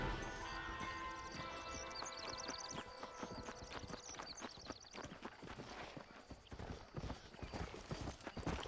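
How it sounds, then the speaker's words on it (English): Horse hooves clip-clop steadily in Red Dead Redemption, a rapid galloping rhythm that runs the whole time alongside game music, with a brief whinny and some clattering mixed in. "Horse, come to me."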